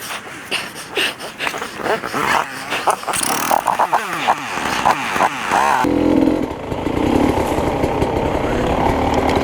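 A dirt bike engine on a trail at a motorcycle event in Leavenworth, Kansas, sputters and revs in choppy bursts, then settles into a steady louder drone as the bike pulls away, close and rough.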